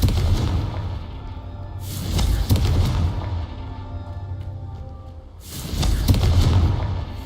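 Booming fiery explosions from the Confringo spell in Hogwarts Legacy, two heavy blasts a few seconds apart with rumbling tails over a game soundscape.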